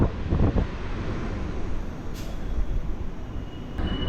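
AC EMU suburban train running from Chennai Central to Chengalpattu, heard from inside as a steady, loud rumble and rushing roar with some wind noise throughout.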